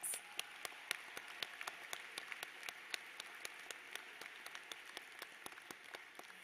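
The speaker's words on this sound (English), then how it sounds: "Let's give them a big round of applause." Sparse, distant clapping from a crowd at a university commencement ceremony, faint and fairly steady, with individual sharp claps standing out over a soft wash of applause.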